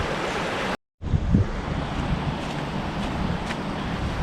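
Floodwater from the flooded River Erewash rushes steadily across a submerged field in a continuous broad roar, with gusty wind noise on the microphone and a brief dropout early on.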